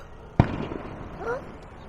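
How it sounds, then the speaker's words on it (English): A single sharp firework pop goes off at middle distance in a park campground, followed by a short rumbling echo, while a voice speaks briefly afterward. "Someone popping fireworks,"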